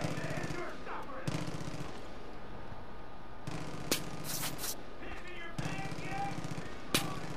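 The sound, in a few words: gunfire from enemies in the video game Far Cry 5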